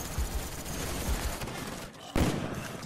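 Dense rapid gunfire from Call of Duty Black Ops, a near-continuous fusillade of automatic bursts with sharp cracks, briefly easing before a loud renewed volley.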